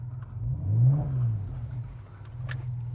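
A classic Porsche 911 engine idles steadily with a low, even rumble, one gentle swell in the middle, and faint clicks above it.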